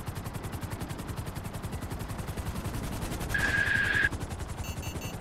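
Rapid automatic gunfire from another player in GTA Online rattles steadily through the whole stretch at a constant, fairly loud level, joined near the end by a brief high electronic tone. No one speaks.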